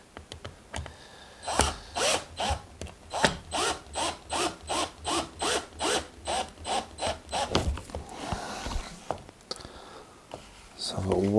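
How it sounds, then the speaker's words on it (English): Screws are driven by hand into a miniature tabletop wargaming model, giving a steady run of about fifteen rhythmic ratcheting clicks, close up, with soft talk before and after. "what I'm going to try and do is get these screws in"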